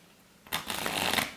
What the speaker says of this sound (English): The spectator shuffle, guys.